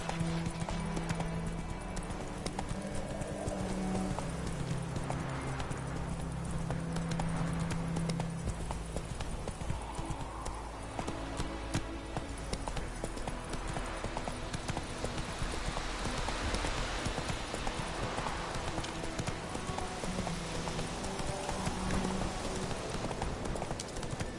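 Hooves of Roach, a horse in The Witcher 3, clip-clop steadily at a gallop for the whole stretch under game music and ambient noise, moderately loud and continuous without speech.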